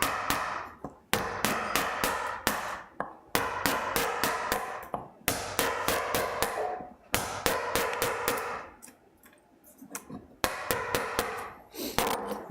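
Chisels struck repeatedly with a hammer while clearing out wood in a Japanese woodworking shop, giving sharp, loud, irregular knocks in quick bursts, separated by short pauses throughout.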